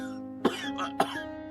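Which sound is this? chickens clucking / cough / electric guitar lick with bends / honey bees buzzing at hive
cough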